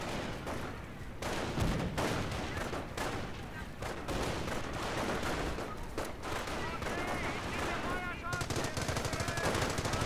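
Machine gun fire in a World War II-style strategy game on a city outskirts map, bursts rattling almost continuously and loudly with other gunfire mixed in, and a voice talking over parts of it.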